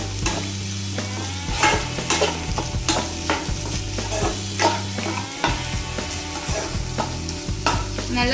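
Eggs sizzle and are stirred in a hot pan with vegetables for Schezwan egg fried rice, a steady frying hiss with repeated scraping strokes over background music.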